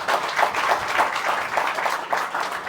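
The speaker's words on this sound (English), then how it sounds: "we should applaud all of these athletes" Audience applause at the opening of a double squash court in Guyana, a steady dense patter of many hands clapping that holds evenly for a few seconds with no break.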